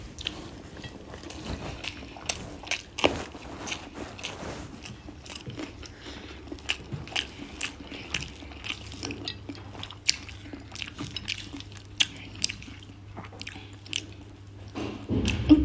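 Close, quiet chewing and biting of hot rice with bitter gourd and potato fry, soft irregular crunches and squishes spread through, no talk.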